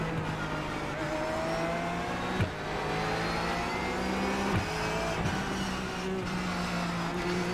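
A Porsche 911 Cup race car engine in the iRacing sim at Spa roars continuously at high revs, with sharp gear-shift dips breaking the steady drone while overtaking in traffic.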